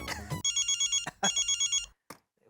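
A telephone rings in a home in a housing society: two close bursts of rapid electronic trilling, then a short pause, with brief voice sounds around them.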